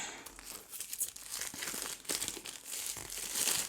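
Plastic wrapping around a cat-themed tarot deck is cut and pulled open, giving close, busy crinkling and crackling with small tearing rustles that carry on throughout.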